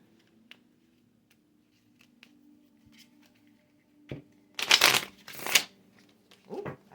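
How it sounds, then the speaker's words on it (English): A deck of reading cards is shuffled close by in two or three quick riffling bursts after a quiet stretch of faint handling, with soft background hum. "I guess it's time to quit shuffling."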